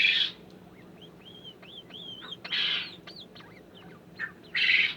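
Bobwhite cross birds give repeated whistled, rising chirps and calls at close range, with bursts of louder harsh calls at the start, middle and end, no talking.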